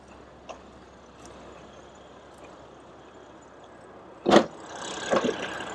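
Hood of a 2024 BMW X4 M40i being opened: quiet background hum, then a sharp loud latch clunk near the end followed by a couple of softer knocks as the hood lifts.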